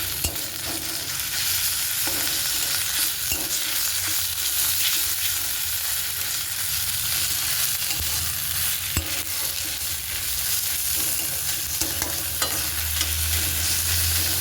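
Onions frying with ginger-garlic paste in a pan give a dense, constant sizzle with intermittent stirring clicks, heard close and alone.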